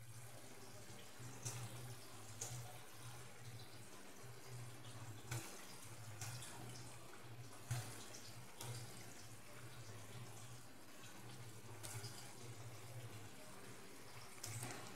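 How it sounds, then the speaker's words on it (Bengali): Vegetables for a pumpkin and bitter gourd dish boil in a pot with a quiet, steady bubbling and a low hum. Occasional soft clinks and taps come through, and no one speaks. "এইভাবে ফুটতে শুরু করেছে সবজিটা।"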